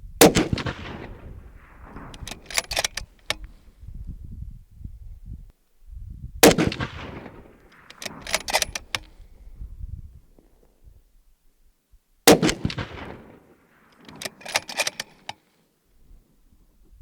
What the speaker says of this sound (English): we'll go ahead and shoot our first group with the ammunition that we zeroed with